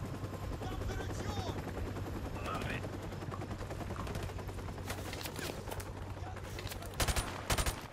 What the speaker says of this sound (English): The minute we go up onto this valley bit, gunfire.